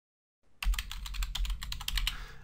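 Rapid, uneven keystrokes on a computer keyboard, entering a search into Bible software, close and crisp after a brief silent start, with no voices.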